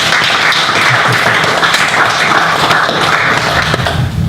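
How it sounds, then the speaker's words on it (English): Sustained, loud applause fills the room at a Localhost Brisbane meetup as the crowd claps for the organising team, a dense continuous patter with no voices on top. "big round of applause to the amazing team"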